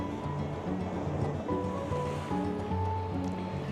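Calm winter sea at Odesa washes gently against the shore, a soft continuous wash with wind noise on the microphone and faint tonal sounds over it, and no talk.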